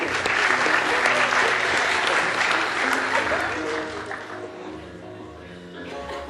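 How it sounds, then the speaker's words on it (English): An audience bursts into loud sustained applause that gradually tapers off toward the end, with voices murmuring underneath as it fades. "Give her a big round of applause."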